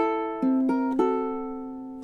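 Scarborough Fair's first stanza picked as a solo chord melody on ukulele: a few bright plucked notes and chords ring out clearly and decay slowly in a quiet room.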